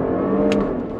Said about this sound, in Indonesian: sekarang kita mau cobain dulu untuk launch controlnya